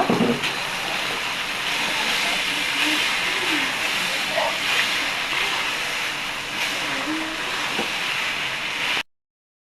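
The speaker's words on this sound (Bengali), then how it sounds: "ভালো করে চালটা ভেজে নেব।" Rice grains fry in a pan with a constant, fairly loud broadband hiss, with faint occasional scrapes and stirring movements running throughout until an abrupt stop.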